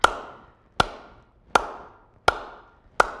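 Five hollow cupped-hand claps of Zimbabwean kuombera, evenly spaced at a steady moderate pace, each sharp and resonant, close to the listener and alone.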